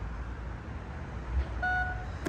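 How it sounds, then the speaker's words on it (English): A short electronic beep from a 2023-2024 Mercedes GLE tailgate confirming a new height setting chirps once, clear and steady, over a low background hum. "That beep is to say that this is the new position for this tailgate"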